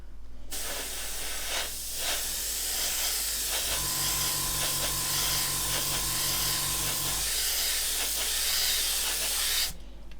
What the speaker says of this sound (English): Compressors are going overtime down there.